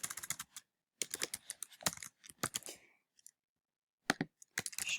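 Quick bursts of typing on a computer keyboard as student name and address details go into an online form, close and clear clicks in rapid runs broken by short silent pauses, with no voices.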